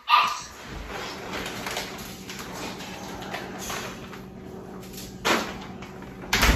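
Several dogs in a kennel at raw-diet feeding time, with scattered barks and whimpers over steady background noise and a couple of louder bumps near the end.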